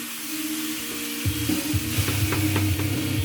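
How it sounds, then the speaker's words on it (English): Zucchini pieces coated in olive oil sizzle steadily in a pan while a utensil stirs them, adding soft scraping and clacking pulses over the constant frying hiss, close and alone. "Once you get all this stirred in, got all the olive oil covering pretty much every piece."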